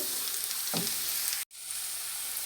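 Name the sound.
onion and garlic frying for tempering greens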